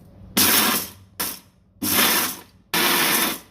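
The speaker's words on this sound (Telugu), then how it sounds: "మిక్సీ జార్ పెట్టుకొని చట్నీని కొంచెంగా ఫల్స్ ఇచ్చినట్టు తిప్పి" A mixie jar grinding salted dal chutney in short pulses: four loud, whirring motor bursts with brief pauses between them, close and without any talk.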